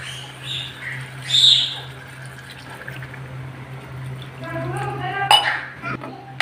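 Water is poured into a pan of sautéed prawns and taro stolons, a short gurgling pour with a rising fill tone near the end, alongside kitchen clinks and a person talking.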